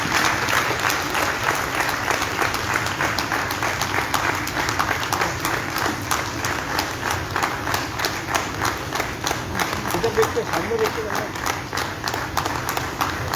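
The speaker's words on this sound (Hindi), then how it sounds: "तो प्लीज़ एक बार हमारी तालियों की गड़गड़ाहट साथ में रहे" Sustained audience applause fills a book launch ceremony at a theatre hall, steady dense clapping throughout with a crowd murmur beneath, loud and close.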